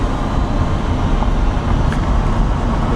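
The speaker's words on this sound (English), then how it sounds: "Traffic sucks." Steady road traffic on a highway makes a dense, unbroken rumble and roar from nearby, with no speech.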